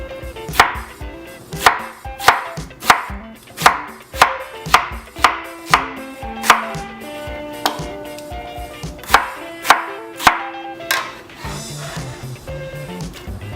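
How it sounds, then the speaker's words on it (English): Knife chopping a large onion on a board in a home kitchen, a dozen crisp, close, evenly paced chops with a few short pauses and no talking. "Okay, I'm gonna chop up an onion."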